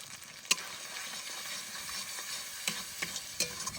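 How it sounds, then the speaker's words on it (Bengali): A spice paste with turmeric and salt sizzles steadily in a hot pan while a spoon stirs it, a constant close frying hiss broken by a few sharp scraping clicks. "হলুদ আর লবণ দিয়ে একটু নাড়াচাড়া দিলাম মশলা"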